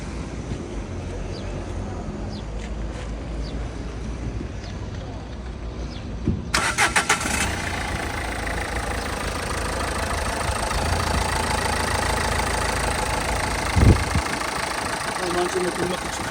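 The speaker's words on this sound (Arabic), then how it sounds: "انا نديماري لكم الطوموبيل باش تسمعوا النغمه ديال الموتور." A 2021 Dacia Logan engine cranks and catches about six seconds in, then settles into a steady, close idle that runs to the end, with a faint low thump midway.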